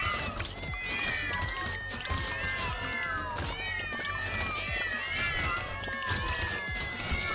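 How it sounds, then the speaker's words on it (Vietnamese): Cartoonish cat meows from the video game Brotato repeat over a busy backdrop of game effects and music, loud and insistent, several calls in quick succession. "cái tiếng mèo kêu nghe đau đầu quá"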